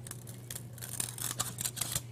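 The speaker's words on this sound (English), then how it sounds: "Just use my scissors. Rotate the plate to make it easier to cut." Scissors snip through a foam plate, cutting out a curved glider tail with repeated short crisp cuts up close, over a steady low hum.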